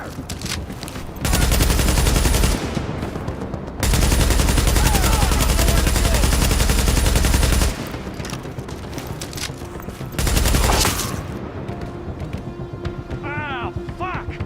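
Sustained automatic gunfire in The Division video game, loud bursts of rapid shots in three long stretches with brief gaps between, mixed with game effects and a voice speaking.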